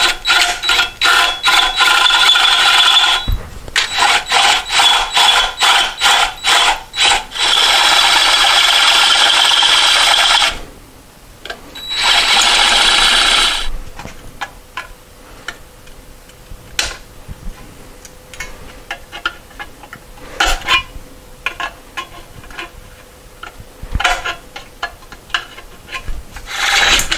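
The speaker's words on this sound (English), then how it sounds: "So we'll need to open that hole up, I'm assuming to 5/8 of an inch." A hole in a part from a 1973 Moto Guzzi motorcycle being opened up toward 5/8 inch, heard as loud close bursts of rasping, grinding tool work broken by short pauses, then lighter scraping and ticking.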